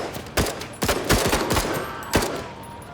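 Rapid gunfire from the tactical video game MENACE, a string of sharp shots in quick succession with a few louder bursts, loud and close with no talking.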